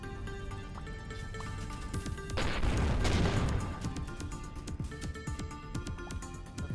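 Cradle cannons fire in the space game Avorion, a rapid stream of close, sharp shots over a steady hum, with one heavier roaring burst in the middle; no talking.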